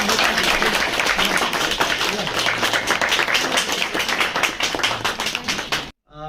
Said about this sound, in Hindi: तालियों की कमी नहीं होनी चाहिए, प्लीज तालियां बनती रहेंगी।